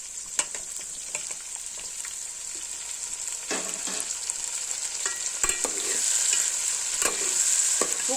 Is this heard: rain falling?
no